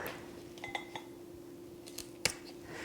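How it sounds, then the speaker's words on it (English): Garden shears snip through old orchid flower stalks near the base of the plant, giving a few faint, sharp clicks and one crisp cut in a quiet room. "I'm going to take my shears and I'm going to cut off the old stalks down near the bottom"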